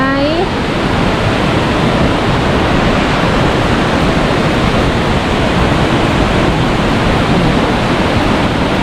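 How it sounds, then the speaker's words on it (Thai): Khlong Lan waterfall in a tree-shaded forest setting, a steady loud broadband rush of falling water filling the whole clip with no break. "น้ำตกคลองลานตรงนี้จะเป็น ต้นไม้ปกคลุมไปนิดนึง"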